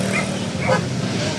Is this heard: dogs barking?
yes